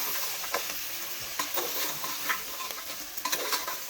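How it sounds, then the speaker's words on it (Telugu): Mutton paya curry with chili powder and fenugreek leaves is stirred as it fries, a bright continuous sizzle broken by repeated spoon scrapes against the pan, close and fairly loud with no voices. "ఒకసారి మంచిగా కలుపుదాం."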